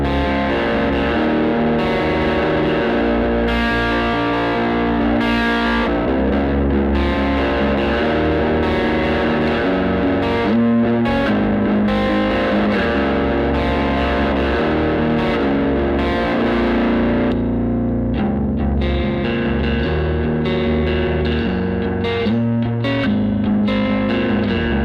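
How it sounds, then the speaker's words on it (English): A Balaguer semi-custom Woodman electric guitar plays through the Sonulab StompStation's stock Blue Devil preset, giving heavily distorted, sustained riffs and chords that stay loud and steady throughout, with no talking. "I want to quickly show off the first stock preset, Blue Devil, so you can get an idea of what this unit sounds like when you first boot it up"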